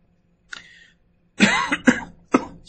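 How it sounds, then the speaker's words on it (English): A person coughs several times in quick succession, close and fairly loud, starting with a short throat sound then three distinct harsh coughs in a quiet room. "Excuse me as I cough."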